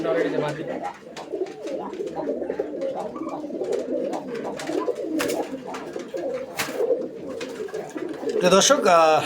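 Male fancy pigeons at a pigeon fair give soft, repeated throaty coos, close by and under someone talking continuously, with a brief fluttery burst near the end.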